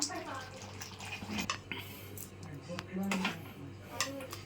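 Jackfruit seed curry being scraped from a cooking pan into a bowl, quiet metallic clinks and ladle scrapes at an irregular pace, with soft, wet, slurping movement between them and a faint background hum.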